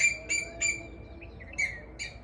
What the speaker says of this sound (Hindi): तो अभी आपको चिड़ियों की ची ची ची ची चहकने की आवाज़ें सुनती होंगी